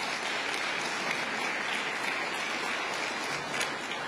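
An audience at a bill-signing event applauds the governor of Alabama with loud, dense, sustained clapping that holds steady throughout.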